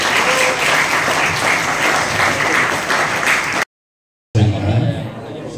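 A crowd applauds loudly and continuously, the clapping cutting off abruptly into silence before resuming briefly with some voices.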